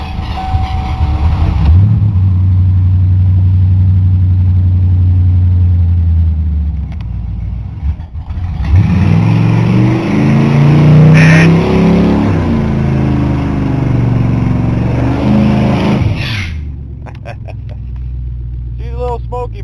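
A 1988 Ford Crown Victoria with a poorly running, smoky engine, idling loudly up close with a deep rumble, then revving and pulling away, its sound fading as voices speak near the end.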